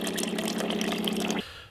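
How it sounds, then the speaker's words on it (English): A water dispenser machine fills a bottle with a dense, steady gush of pouring water that runs loud and close for over a second, then cuts off abruptly into quiet room tone. "Still one of the best investments we've ever made is getting this water machine."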